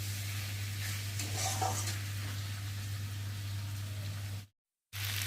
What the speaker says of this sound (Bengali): এবার ভালো করে মশলাটা দিয়ে কষিয়ে নেব, যতক্ষণ একটা মশলার কাঁচা গন্ধ যাবে ততক্ষণ কষিয়ে নিতে হবে